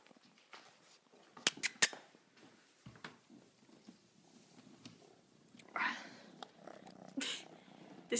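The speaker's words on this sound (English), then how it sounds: "This is the kitten I'm pet sitting." A 15-week-old kitten purrs softly and close, interrupted by sharp clicks, scratches and rustling bursts from its movements.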